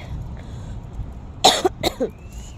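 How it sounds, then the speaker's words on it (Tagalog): A short burst of two or three harsh coughs rises out of quiet background hiss. "Ayan, may ubo ako."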